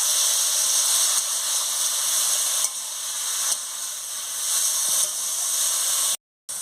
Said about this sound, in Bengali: তেল গরম হয়ে গেছে, আমি শালগমটাকে দিয়ে দিচ্ছি, দিয়ে ভালো করে নাড়িয়ে নিচ্ছি।